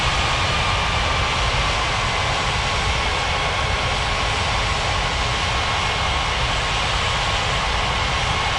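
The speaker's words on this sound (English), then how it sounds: "I-5 2951 cleared for takeoff runway 23." Steady, loud jet engine roar of an airplane taking off from a runway in an air traffic control game, a continuous broadband rush with no pauses.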